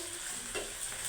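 Pasta with chicken, made with powdered milk, fries and is stirred in a pan, a soft brief sizzle with a light scrape of a spoon, no talking.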